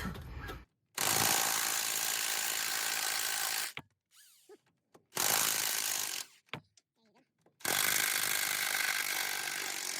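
A power tool, an impact wrench by its sound, removes 14mm nuts from the sway bar bracket on an Infiniti EX35 in three loud, close bursts of rattling hammering lasting a few seconds each, separated by quieter handling noises.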